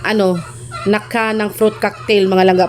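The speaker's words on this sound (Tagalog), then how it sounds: "ang ingay talaga ng mga manok dito sa bukid" Farm chickens cluck and squawk loudly nearby in repeated bursts of sharp, rising calls, interrupting a voice-over speech.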